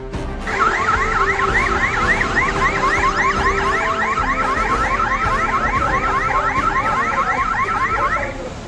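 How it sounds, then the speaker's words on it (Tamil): A loud electronic alarm wails in a rapid, repeating up-and-down warble at a bus station in Thanjavur, continuous and close, over faint background noise. "பேருந்து நிலையத்தையே அலறவிட்ட அலாரம்"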